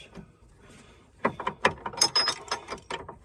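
A nut on an Iveco Daily track rod end is turned while an Allen key holds the stud, and the whole rod spins. A run of close, uneven metallic clicks and rattles starts after a quiet second and continues to the end.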